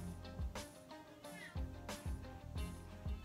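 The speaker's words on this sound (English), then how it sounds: "Sorry if you hear my cat. She's been very noisy the past couple weeks." A pet cat meows several times in a row, fairly close, with short regular calls repeating over a steady indoor background.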